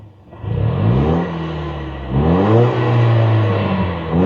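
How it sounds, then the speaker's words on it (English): A 2024 Toyota Tacoma or Ford Maverick pickup engine revs up through its exhaust, a deep rumbling roar that rises in pitch twice, loud and close, with no talking. "Let's see what this exhaust sounds like."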